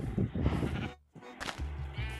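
Minecraft sheep bleating, two loud close wavering bleats separated by a short gap, heard alone with no talk.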